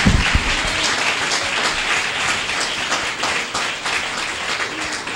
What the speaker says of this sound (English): let's give Sam Bradley a rousing applause